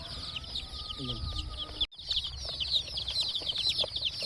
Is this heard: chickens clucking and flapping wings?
yes